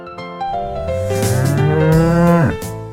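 A single cow gives one long, loud, close moo that rises and holds as a drawn-out tonal bellow, then drops off sharply at the end, heard alone with nothing else around it.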